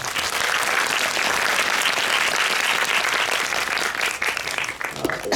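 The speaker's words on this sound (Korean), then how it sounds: "박수로 맞아주십시오." An audience at a cinema Q&A claps to welcome a film director and two actors, a dense, continuous burst of applause filling the room from start to finish.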